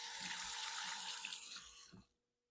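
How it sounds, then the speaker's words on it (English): Hands are rinsed under a running tap, a steady close rush of water splashing into the sink that suddenly stops as the faucet is shut off. "Rinse my hands off real quick."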